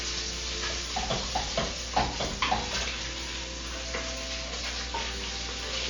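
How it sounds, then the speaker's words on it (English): Steady crackling sizzle of bacon frying in a pan, with occasional scraping and stirring clatter over a constant hiss, no voices. "So there's our bacon sizzling there"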